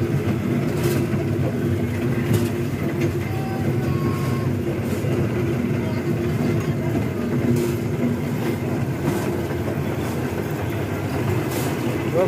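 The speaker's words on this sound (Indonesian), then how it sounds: "Dia naik mobil kereta-keretaan." A kiddie train ride rolls along at the World of Wonders amusement park in Citra Raya, Tangerang, giving off a steady, close rumble with faint rhythmic clicks from the wheels and no talking.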